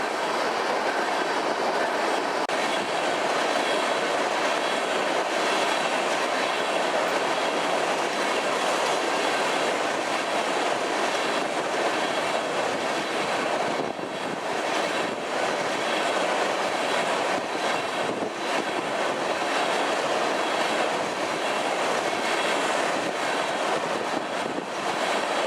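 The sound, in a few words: BNSF crude oil train led by an SD70ACE locomotive passing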